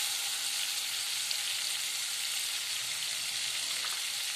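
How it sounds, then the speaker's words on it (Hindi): Butter melting in a pan over low heat for palak paneer, a continuous bright hiss and sizzle, steady and even throughout at close range. "अब हमारा बटर थोड़ा सा मेल्ट हो चुका है"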